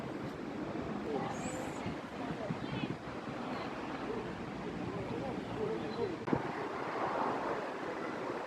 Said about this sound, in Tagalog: umahangin na